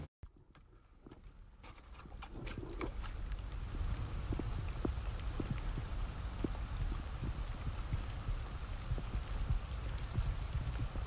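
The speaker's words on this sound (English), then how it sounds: "It's starting to rain good again now." Rain falls outdoors, a soft steady patter of drops building and thickening on nearby surfaces, fairly faint and with no talk.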